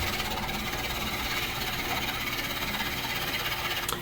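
A wood lathe spins at 1,000 rpm while a bowl gouge hogs out a natural-edge maple burl bowl, giving a steady, dense whirring hum with constant cutting noise and no pauses.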